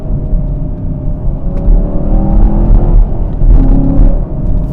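A 2021 Chevrolet Camaro SS 1LE V8 blipping its engine under rev match, a loud steady low rumble and whir from inside the car with small rises in revs.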